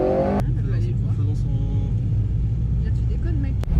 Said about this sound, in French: Et quand tu as les mains droites, tu accélères.